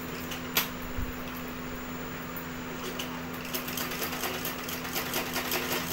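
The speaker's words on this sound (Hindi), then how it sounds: "यहाँ पे देख सकते हैं मैं डाल रही हूँ इसमें सिलाई।" A sewing machine runs steadily while stitching a blouse, with a constant motor hum and a fine rapid needle chatter that grows busier toward the end, close and continuous with no voices.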